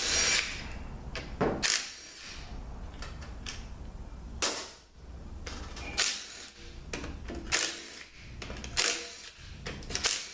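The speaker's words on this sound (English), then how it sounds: "I'm gonna get the pump bolts out" Bolts on a THM400 transmission pump are worked loose with a half-inch tool, giving a series of sharp clicks and metallic ratcheting snaps at irregular intervals over quiet background noise.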